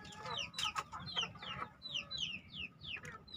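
Young hens in a chicken breeding pen with their rooster give repeated short, rising clucks in an uneven rhythm, fairly faint and close, over a low background murmur.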